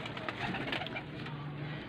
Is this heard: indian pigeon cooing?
yes